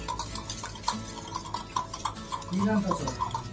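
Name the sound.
beating eggs and sugar in a bowl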